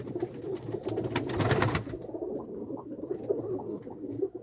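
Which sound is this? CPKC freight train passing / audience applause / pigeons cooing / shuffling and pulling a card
pigeons cooing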